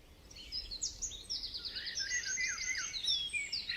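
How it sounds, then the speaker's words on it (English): Birds chirp high and rapidly in quick, repeated trills and tweets, fairly faint over a quiet background with no voices. "When birds chirp, they chirp really, really high"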